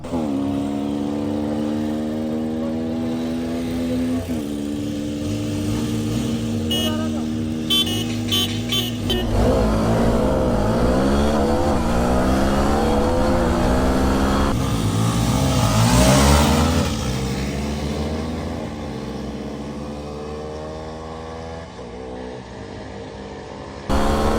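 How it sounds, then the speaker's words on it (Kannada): Two dual-sport motorcycles, a Hero XPulse 210 and a Kawasaki KLX 230, drag race on a real road. Engines rev loudly and pull upward in pitch through the gears, sustained and close throughout. "ಬನ್ನಿ ಎಕ್ಸ್ಪಲ್ಸ್ ಜೊತೆ ಒಂದು ಡ್ರ್ಯಾಗ್ ರೇಸ್ ಮಾಡೋಣ."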